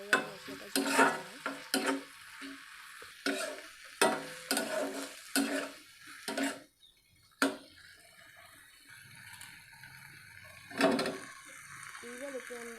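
Water is added to fried spice paste in a wok and stirred, giving sizzling bursts and scraping, clattering strokes of the spoon in an irregular rhythm, close and moderately loud, then a quieter stretch of simmering.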